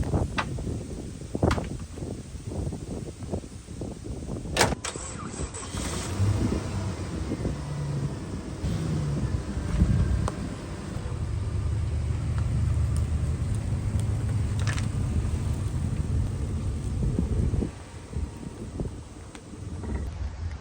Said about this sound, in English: Let's get the Jeep off of the grass, put it on the concrete here